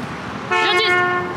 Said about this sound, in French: Il le klaxon alors qu'on est sur le trottoir.